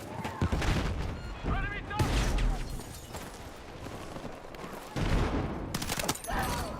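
Battlefield 6 combat erupts in a dense fusillade of loud gunfire with sharp bursts and booming blasts, including a thrown frag grenade, repeated in waves over several seconds while a voice talks through the chaos.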